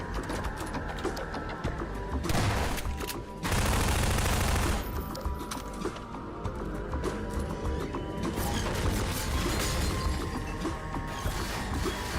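SMG fire in a video game, rattling in dense, rapid, sustained bursts and loud throughout, with a few heavier crashing surges mixed into the chaotic clatter.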